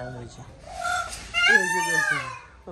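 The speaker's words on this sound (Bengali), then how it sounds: "ওই যে ময়ূর ডাকতেছে।" A peacock's loud, wailing call rises and falls with bright harmonics nearby, at a farm with ducks, with people talking around it.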